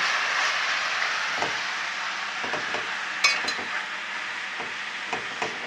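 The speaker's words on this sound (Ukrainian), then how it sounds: "Додаємо гриби. І підтушковуємо цибульку із часничком." Mushrooms stewing with onion and garlic in a pan give off a steady soft hiss and sizzle, with occasional light utensil taps and stirs.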